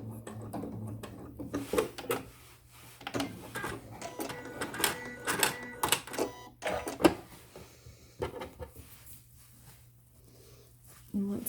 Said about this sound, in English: Doing a locking stitch.